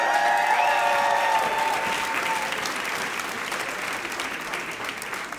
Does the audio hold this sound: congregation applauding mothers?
yes